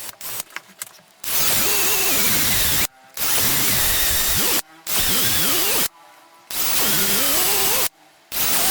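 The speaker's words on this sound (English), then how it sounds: "You just have to drill some hole here" Several bursts of a power drill boring holes in a box, each a loud sustained whine lasting one to two seconds, separated by short silent pauses.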